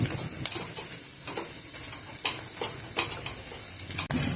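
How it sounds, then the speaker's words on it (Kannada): Fenugreek leaves sauté in a hot pan with a steady sizzle and hiss, broken by several sharp clinks and scrapes of stirring near the microphone. "ಮೆಂತ್ಯ ಸೊಪ್ಪನ್ನ ಹಾಕ್ಕೊಂಡು ಬಾಡಿಸ್ಕೊಳ್ಳೋಣ"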